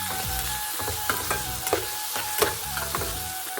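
A turmeric, coriander and cumin spice mix sizzles steadily in hot oil in a pan while a utensil stirs it, with soft scrapes and clinks over a constant frying hiss.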